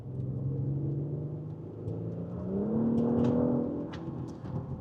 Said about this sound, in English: if I'm just tipping the throttle